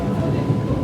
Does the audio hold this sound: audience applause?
no